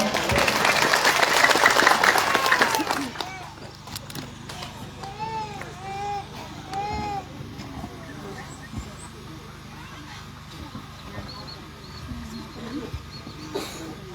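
An audience applauds loudly at an indoor social-security program outreach gathering, dense clapping for about three seconds before it fades into quieter room noise and scattered sounds.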